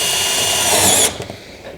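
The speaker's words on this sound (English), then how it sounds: "So I'm gonna put a screw here, and I'm gonna put one more screw in between this other row of screws here." A power drill drives a screw into insulated duct lined with Armaflex duct liner, with one loud, close whirring burst that stops abruptly and then trails off into faint handling noise.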